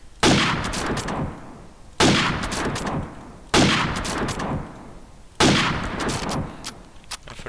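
Four loud, sharp bursts of gunfire at roughly even intervals, each with a decaying tail, fired through a brick wall in Call of Duty 4 Promod.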